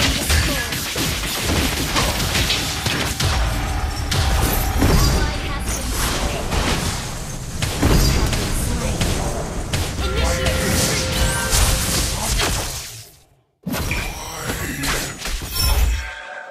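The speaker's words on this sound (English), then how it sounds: "Our turret is being destroyed." Crashing, shattering impacts and whooshes from a turret being destroyed in the Mobile Legends video game, dense and loud over busy game sounds, with short voiced announcer lines and a brief pause near the end.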